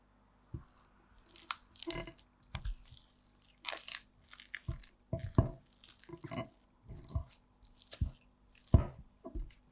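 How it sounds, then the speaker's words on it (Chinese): Steamed taro and purple sweet potato are pressed and mashed with a fork or potato masher in a bowl, giving repeated soft squishing thuds and scrapes in an irregular rhythm, close and moderately quiet. "蒸熟的香芋和紫薯用压土豆泥的工具或者叉子压碎"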